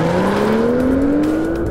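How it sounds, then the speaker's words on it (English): BMW 2 Series Coupé with a TwinPower Turbo engine accelerating hard, its loud, close engine note climbing steadily in pitch over a short burst with no talking. "If you put the pedal to the metal, this engine really punches the car from 0 to 100 kilometers per hour"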